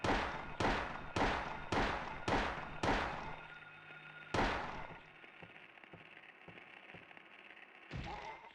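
Rapid series of loud gunshots aimed at enemies in the video game Restless Dreams: six evenly spaced sharp blasts, then a pause and two more shots, each with a short ringing tail.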